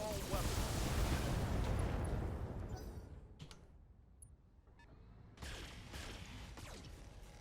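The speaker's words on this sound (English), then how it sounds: "Firing all weapons." Mech firing every weapon at once in Battletech during urban combat: a dense, loud roaring barrage of blasts for about three seconds that fades, then a second burst of rumbling fire resumes, with voices talking over it.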